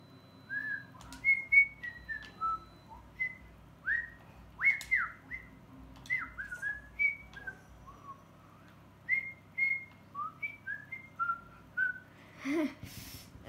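Whistling in the video game Assassin's Creed Mirage, a series of short rising and falling whistled notes and chirps in a lively, irregular melody over a faint low background hum.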